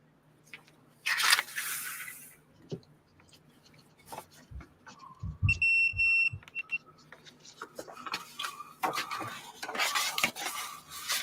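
A continuity tester gives a short, steady electronic beep in a cluttered workshop, heard once amid clattering metal, handling knocks and occasional talk.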